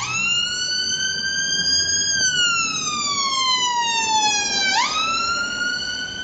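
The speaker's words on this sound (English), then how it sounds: "Another ambulance, really." A loud wailing siren sweeps up and down in pitch, steady and close, as an emergency vehicle goes by.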